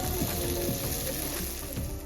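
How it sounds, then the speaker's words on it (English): Food sizzling in a frying pan while dinner is cooked at home, a steady close hiss with faint clicking underneath and no talking. "Listen to the sizzle."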